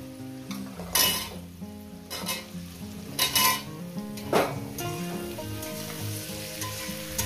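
Drumstick vegetable (sajne data) pieces fry in oil in a pan for a poppy-seed curry, with a steady close sizzle and a few louder bursts of spatula stirring and scraping against the pan.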